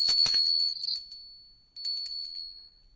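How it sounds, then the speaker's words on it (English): A small bell rings twice. Each time a bright metallic ping is struck, then the tone rings out clearly and fades, with a short silence between the two rings. "Ring the bell."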